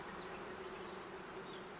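Honey bees at a hive give off a dense, steady buzzing that holds evenly throughout, close and continuous with no voices.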